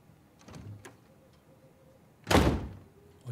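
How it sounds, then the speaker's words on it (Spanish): A door slams shut in the video game Uncharted 4: A Thief's End, one loud heavy thud with a short rattle, after quieter thumps and faint clicks. "pero no le azote la puerta"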